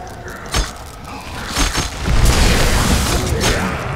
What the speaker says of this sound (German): Jetzt hat er mich explodieren lassen.